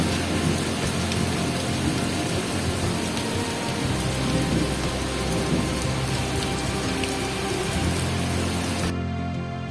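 Heavy rain pours steadily in a thunderstorm, a dense, loud, continuous roar of drops with low rumbling underneath, cutting off abruptly near the end.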